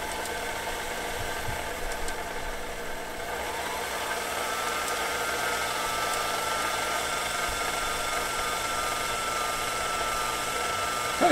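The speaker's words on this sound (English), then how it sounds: "This obviously has not been lubricated real well, so it's grinding quite a bit." A Singer Featherweight 221 sewing machine, poorly lubricated, runs with a steady mechanical whir and a gritty grinding hum, fairly quiet and continuous throughout.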